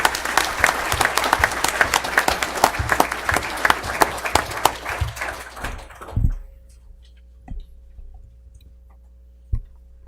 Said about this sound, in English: So maybe one last round of applause for everybody.